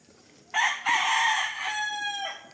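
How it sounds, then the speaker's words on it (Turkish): A rooster crows loudly nearby in a garden full of banana plants, with a second overlapping crow from another rooster following right after it. "Hepsi sırasıyla bağırıyor, ötüyor."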